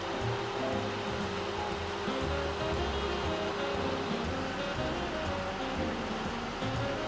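A Ford Escort XR3i radiator cooling fan whirring continuously alongside the idling engine, a steady airy rush with a low mechanical hum underneath, constant and fairly close throughout.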